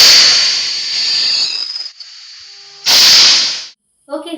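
A pressure cooker on the stove while biryani cooks lets off two loud, close steam whistles, a long hissing burst and then a shorter one, separated by a quiet gap.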